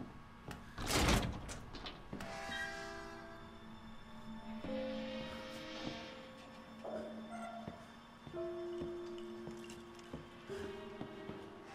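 Creaking door swinging open in the survival horror game Resident Evil 7, drawn-out groaning wooden hinge tones after a sharp knock, moderately loud with no talking.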